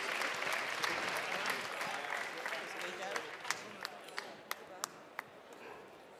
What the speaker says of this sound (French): On peut vous applaudir tous et toutes